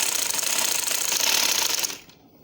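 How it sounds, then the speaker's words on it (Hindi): A sewing machine stitches over dori piping in one fast, loud, steady mechanical whir that cuts off abruptly near the end, leaving quiet room tone. "जो हमने सिलाई लगाई है उस सिलाई के ऊपर ही हम मज़ीद एक सिलाई लगा लेंगे"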